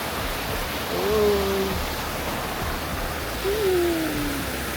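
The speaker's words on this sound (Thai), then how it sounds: "โอ้ น้ำตกสวยมาก" A waterfall at Khao Chong Lom by the Khun Dan Prakan Chon Dam in Nakhon Nayok roars as a steady, dense wash of falling water, with faint whistle-like tones briefly over it.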